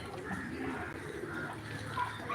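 A Siraz pigeon coos softly over a constant background wash, its low notes blending into the surrounding noise.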